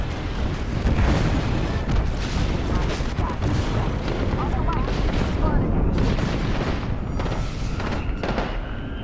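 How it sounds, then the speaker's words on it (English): Loud, dense barrage of booms and crackling blasts from a video game airstrike, rolling continuously without a break and heard close, with voices talking over it. "Airstrike!"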